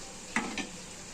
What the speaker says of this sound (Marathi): 5 मिनिटानंतर बघा आपली मच्छी वाफेवर चांगली फ्राय झालेली आहे.